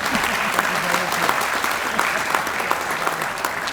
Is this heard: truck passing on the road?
no